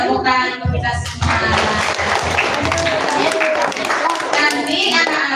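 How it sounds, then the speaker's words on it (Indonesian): Schoolchildren at an Isra Mi'raj commemoration at an elementary school burst into applause after a short exclamation, a dense crowd of small hands clapping for several seconds with children's voices mixed in. "tepuk tangan untuk kita semua"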